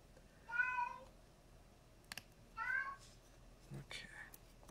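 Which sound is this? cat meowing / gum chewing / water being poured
cat meowing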